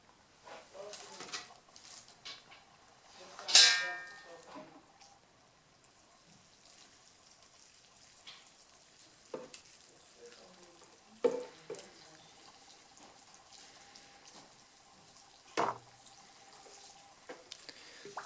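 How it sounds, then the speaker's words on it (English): Water is poured from a can into the substrate of a dragon tree in a Lechuza self-watering pot, giving faint intermittent trickles and splashes with a few soft knocks in a quiet room. "I'm now going to water it"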